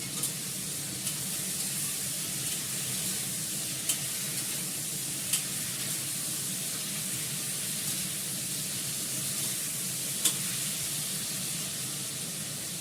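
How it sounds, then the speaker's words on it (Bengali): Potatoes fry in a small amount of oil in a pan, giving a steady, even sizzle with a few faint pops, close and continuous, with no talking. "আলুটাকে একটু লাল লাল করে ভেজে নিই"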